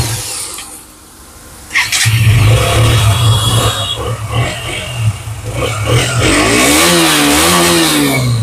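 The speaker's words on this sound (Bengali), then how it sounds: "মিটারটা স্টার্ট করব, স্টার্ট করে দেখিয়ে দেন।" A used BS6 motorbike from around December 2021, with about 11,000 km on it, starts after a brief cranking sound and settles into a loud, close, steady idle that wavers slightly in pitch.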